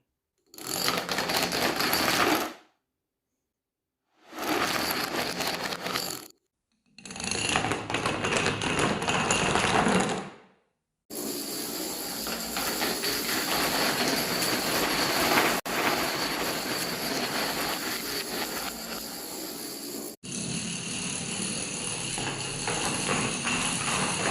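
Dominoes topple in a splitter trick, bursts of rapid rattling clicks that start and stop, then a longer dense clatter as many lines of tiles fall together, close and loud.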